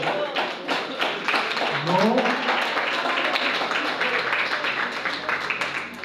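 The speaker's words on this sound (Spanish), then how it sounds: "Un aplauso al Señor" Church congregation clapping in applause, a steady dense patter under a voice speaking over it throughout.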